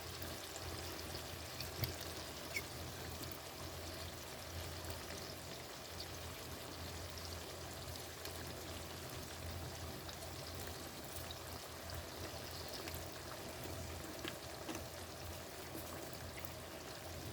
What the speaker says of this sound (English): So I'm putting some brown sugar barbecue sauce.